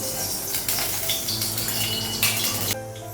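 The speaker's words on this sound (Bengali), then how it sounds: "কড়াইটা একটু ধুয়ে নেব" Tap water runs and splashes while a kadai is rinsed, a steady close gush with brief surges, ending abruptly as the flow stops.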